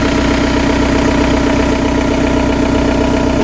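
A swapped-in TDI diesel engine in a Toyota pickup running at a steady idle, a loud continuous rhythmic clatter and hum close by with no voices.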